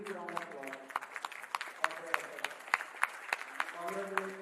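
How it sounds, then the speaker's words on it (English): Scattered audience applause at a 2024 ARTTICON conference gathering, with sharp individual claps under a speaking voice that continues across the short stretch. "big round of applause."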